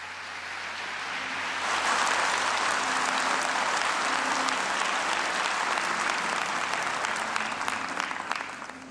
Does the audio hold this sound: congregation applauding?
yes